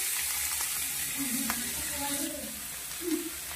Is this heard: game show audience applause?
no